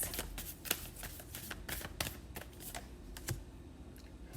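Tarot cards are shuffled close up in a quick run of crisp riffling bursts and soft slaps, each a few tenths of a second apart, with no talk.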